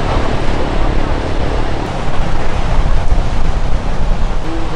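Ocean surf breaking on a busy surfing beach in Siargao, Philippines: a continuous, loud wash of waves with wind noise, steady and close throughout, with no clear voices.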